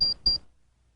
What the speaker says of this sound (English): the unit beeps and the temperature displays